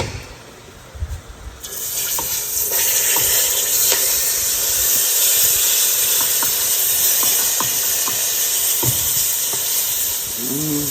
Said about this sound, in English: I'm gonna stir that roux on up in there and let it get right.